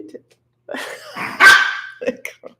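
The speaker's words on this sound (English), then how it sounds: "that's my dog" A pet dog barks in a home near a computer, a few sharp close barks and a growly yip bunched in the middle, with a person's short exclamation before and after.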